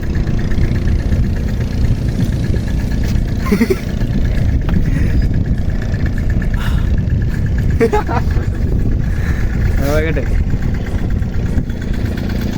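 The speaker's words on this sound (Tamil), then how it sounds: "போட்டில் போயிட்டுருக்கோம்." A fishing boat engine runs at sea, a steady, loud, low mechanical drone throughout, with a few brief voices over it.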